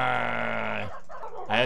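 A dog barks in a Minecraft mod game, a loud near game sound effect with a sustained tonal yelp, a short pause, then another starting.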